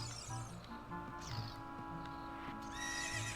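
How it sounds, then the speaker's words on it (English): Horses stabled for the night in The Legend of Zelda: Ocarina of Time Master Quest, neighing and whinnying several times over soft hoof clip-clops and faint rustling, fairly quiet and close. "Because it's nighttime, all the horses are in here for the night."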